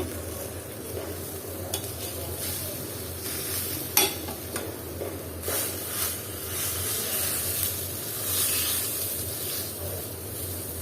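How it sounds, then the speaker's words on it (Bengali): Taki fish frying in a pan while being stirred and flipped, giving a steady close sizzle with soft scraping and clatter of the utensil, with no voices. "আর মাছটা এখন আমি উল্টিয়ে দিব"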